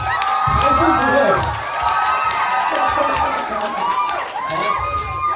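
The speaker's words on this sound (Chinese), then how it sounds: "掌声加尖叫哦" Guests at a one-year-old's birthday party cheer and shout excitedly, a lively crowd roar with whoops over music, loud and continuous throughout.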